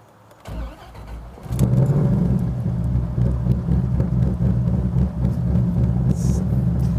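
A turbocharged Dodge Viper GTS engine cranks over and catches, then settles into a loud, deep, steady rumble close by, with no talking.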